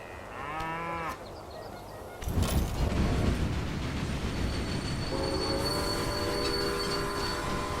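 Berkshire steam locomotive in the game Railway Empire, heard as a sounding whistle, then a loud burst of chuffing and rolling rail noise, ending with a sustained horn tone over the running train.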